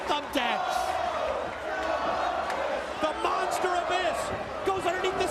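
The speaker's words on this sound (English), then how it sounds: "And listen to the crowd." Wrestling arena crowd at a TNA Unbreakable 2005 match roars and chants continuously, with shouts and bursts of cheering rising and falling as a commentator talks over it.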